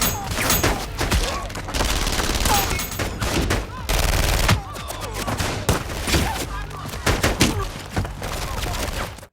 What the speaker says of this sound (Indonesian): langsung melepaskan tembakan